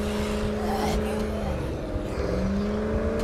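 A car engine in the zombie survival game State of Decay 2 pulls away with steady droning tones that rise in pitch, loud and continuous with a brief tire-like squeal.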